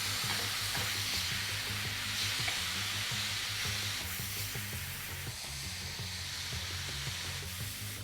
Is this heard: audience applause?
no